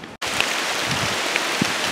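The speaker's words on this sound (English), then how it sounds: "Pretty good downpour." Heavy rain pours down in a forest, a dense, steady broadband hiss of drops on leaves and ground that cuts out for a split second near the start, with a few louder drips standing out.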